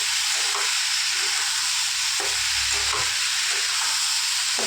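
Salted vegetables are stirred in a frying pan over constant loud sizzling, with soft intermittent scrapes and shuffles of the food beneath the frying hiss. No voices.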